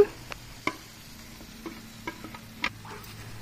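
Quail eggs and ham being stirred in a pan, a quiet low sizzle broken by a few sharp spoon taps and clicks on the pan, with no talk.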